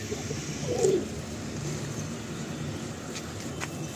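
A Malwai pigeon gives a single soft coo early on, set against a low steady background murmur from a pigeon-selling yard.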